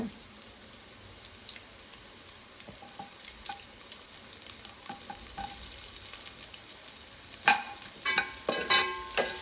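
An onion curry mixture for patrode gasi fries in a pan with a steady soft crackle, and louder spitting and popping bursts come in toward the end.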